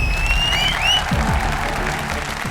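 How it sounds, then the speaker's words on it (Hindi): Audience applause for dancers performing a lively circus-themed number on a TV drama stage, a steady round of clapping mixed with bright, sweeping musical tones and low thuds. "तो हमारे डांसर्स के लिए एक बार फिर तालियां।"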